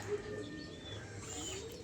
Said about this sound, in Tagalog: Tapos may kalapati pa dito